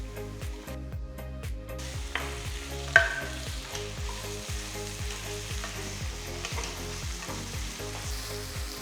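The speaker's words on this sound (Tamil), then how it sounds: "3 பொடியை நறுக்கின தக்காளி போட்டு கிண்டுங்க." Chopped tomatoes fry in a pan, sizzling steadily while a spoon stirs them in a regular rhythm of scraping strokes, with a clack partway through.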